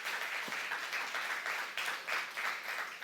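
A church congregation at a youth service applauds in a soft, continuous patter of many hands, heard at a distance and fairly faint.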